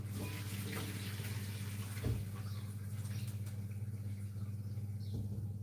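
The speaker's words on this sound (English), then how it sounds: "And I'm going to pour the water off, the hot boiling water" Hot boiling water pours off cooked mackerel in a home kitchen, a steady splashing trickle over a low hum, with a brief clunk midway and no talk.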